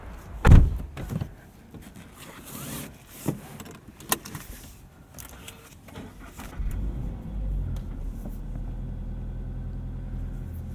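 Someone getting into a car: a loud door slam followed by several softer thuds and clicks of handling inside the cabin, then the low steady hum of the vehicle for the rest of the clip.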